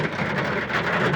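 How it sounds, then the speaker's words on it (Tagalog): Heavy rain falls steadily, a dense, continuous hiss of drops that stays close and fairly loud with no break. "Kasi sa paligid namin ay malakas ang ulan."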